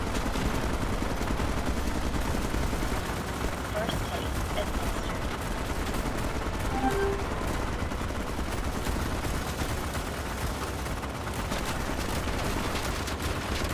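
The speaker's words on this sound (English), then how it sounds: "All right, I threw grenades." Rapid video-game gunfire and grenade explosions crackle in a dense, continuous barrage throughout, with speech mixed into the battle noise.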